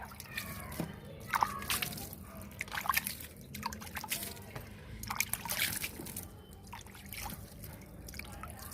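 Water sprinkled lightly over young garden seedlings, including ridge gourd plants, giving soft continuous drips and trickles close by, with small splashes and patters scattered throughout.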